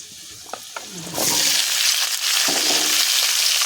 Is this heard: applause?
no